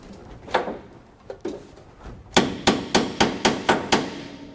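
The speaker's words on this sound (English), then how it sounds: "Let me try my hammer. It's just a little one." Small hammer tapping a Super Cub aircraft wing into its mounting slot: a few scattered knocks, then a quick run of seven sharp, evenly spaced taps, close and crisp.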